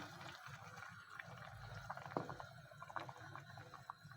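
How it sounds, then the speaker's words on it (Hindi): Quiet bubbling and gurgling of water boiling with chicken in a cooking pot, steady low simmer with small pops, fairly close and soft. "और अभी हम इसको बॉयल होने देते हैं।"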